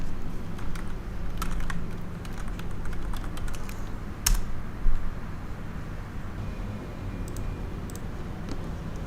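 Username and password typed on a computer keyboard at a login page: quiet, quick runs of key clicks with a few sharper taps, close by and with no voices.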